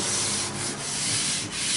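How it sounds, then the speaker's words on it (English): Rhythmic rasping strokes of sandpaper rubbed back and forth over oak, close and steady. "Sanding and planing."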